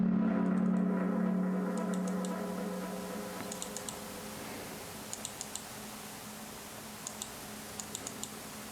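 Keys on a computer keyboard clatter in short, quiet bursts of clicks separated by pauses, over a low steady hum in an indoor room.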